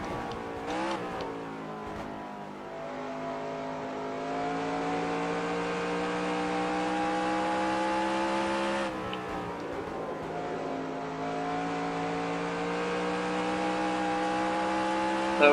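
Race car engine in a NASCAR video game screams at high revs, with rising pitch sweeps between gear shifts and a sharp shift break midway, loud and continuous with no voices.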